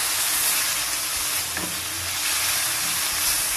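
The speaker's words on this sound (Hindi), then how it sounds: "इसे हम अच्छे से मिक्स कर लेंगे और साथ साथ इसे भूनते जाएंगे" Spice mix of ground cumin and turmeric stirred and dry-roasted in a kadai over a low flame with little oil, a steady close sizzle and hiss with faint scraping strokes.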